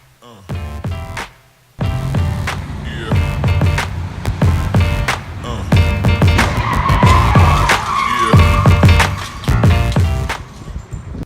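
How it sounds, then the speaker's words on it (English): A car crash in Ottawa: loud tire skidding and squealing in repeated harsh bursts, with brief gaps between them and the car noise close and intense. "here you'll see the car crash happening"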